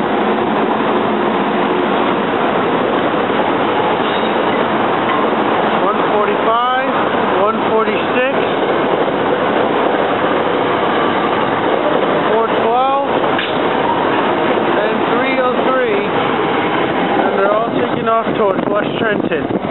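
A SEPTA R3 regional rail train leaving Jenkintown rumbles past steadily for the full span, with a loud continuous roar and occasional metallic squeals, while someone talks over it.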